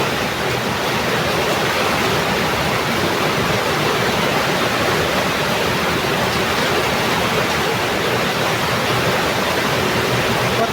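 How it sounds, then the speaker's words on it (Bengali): Heavy rain pours down in a dense, unbroken hiss that stays loud and even throughout, with no voices. "কত সুন্দর বৃষ্টি, তাই না?"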